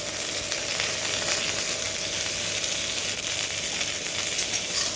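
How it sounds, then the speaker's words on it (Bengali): Cauliflower florets fry in a pan with a little turmeric, giving a steady, moderate hissing sizzle close by that continues evenly without pause. "ফুলকপিটা আমি একটু লালচে করে ভেজে নেব। সামান্য হলুদ দিয়ে দিলাম।"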